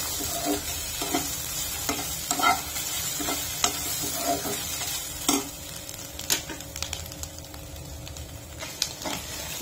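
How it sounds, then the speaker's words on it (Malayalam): Grated coconut being sautéed in coconut oil in a pan, a soft steady sizzle under repeated scraping stirs of a spoon against the pan, close by and with no talking. "നാളികേരം മൊരിയൊന്നും വേണ്ട കേട്ടോ, ഒന്ന് അതിൻ്റെ കൂടെ ഒന്ന് വാട്ടിയെടുത്താൽ മതി."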